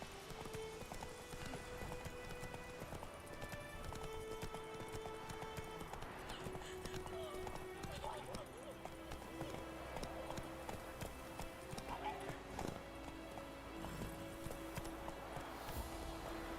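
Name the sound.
horse Roach trotting in video game The Witcher 3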